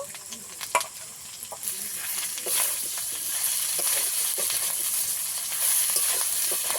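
Ground coriander and ginger paste fry in hot oil with a loud, continuous sizzling hiss and occasional stirring clicks and scrapes near at hand, without talk.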